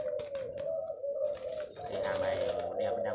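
Japanese spotted doves cooing at a breeding setup, soft repeated coos near and fairly faint, with background chatter and bird noise around them.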